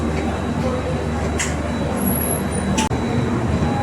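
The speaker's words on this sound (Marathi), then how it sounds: "बरोबर ऑन टाईम आपली ट्रेन छत्रपती शिवाजी महाराज टर्मिनसवरून निघालेली आहे." The Konkan Kanya Express pulls out of Chhatrapati Shivaji Maharaj Terminus in Mumbai, heard from on board as a steady, even rumble with faint clanks and a voice talking over it.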